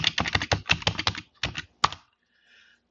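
Keys clatter on a computer keyboard as a password is typed in a Linux terminal, a quick close burst of keystrokes, a short pause, a few more taps, then silence.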